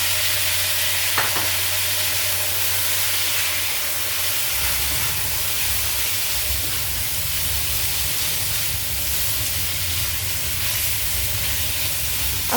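Garlic sautéing in a pan for Filipino pancit, a steady loud sizzle and hiss of frying with occasional stirring scrapes, continuous throughout with no talking.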